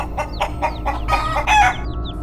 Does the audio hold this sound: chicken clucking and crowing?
yes